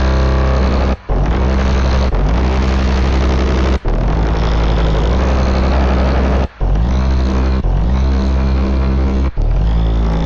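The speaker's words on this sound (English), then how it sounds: "A bit of a motorcycle engine kind of feeling to it." A heavy, bassy drum and bass FX preset growls like a distorted motorcycle engine, loud and dense, cut by brief gaps into several sustained revving bursts with no voices.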